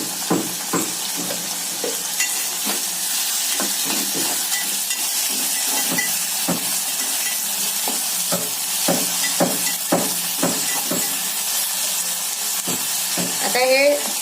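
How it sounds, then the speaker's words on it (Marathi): Onion and tomato sautéing with salt in a pan for a Maharashtrian dish, a continuous close sizzle broken by repeated clicks and scrapes of a spatula, with a brief voice near the end. "आता हे 3 ते 4 मिनिटं परतत राहायचं, म्हणजे ते चांगलं भाजून होईल।"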